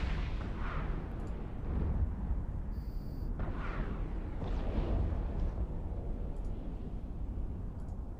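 Rockets firing in EVE Online, a series of deep booming launches and whooshing bursts spaced a second or two apart, loud and rumbling, with a faint electronic tone briefly sounding in between.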